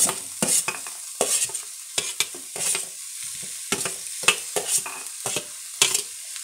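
Sliced potatoes and onions sizzle and fry in a pan while a utensil scrapes and stirs in repeated sharp strokes, close and fairly quiet, with no talking.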